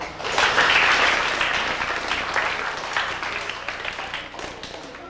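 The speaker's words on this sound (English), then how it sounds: "Give yourselves a clap." Students in a Singapore classroom clapping together, a loud, dense round of applause that swells at once and slowly thins over a few seconds.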